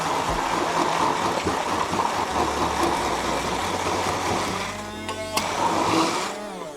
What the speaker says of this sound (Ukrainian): Я беру блендер.